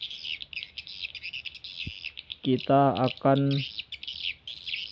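Swiftlet lure call played from a speaker for roosting swiftlets inside a bird house: dense, continuous high chirping and twittering trills, loud and close, with a brief human voice speaking partway through.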